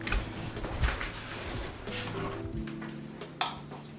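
Sweet potato chili being ladled from a pot into a bowl, with soft clinks and scrapes of a utensil against cookware and a brief sharper knock near the end, close by in a kitchen.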